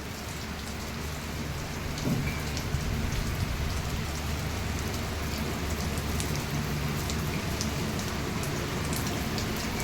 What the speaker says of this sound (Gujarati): વરસાદ આવે જ છે ધીરો ધીરો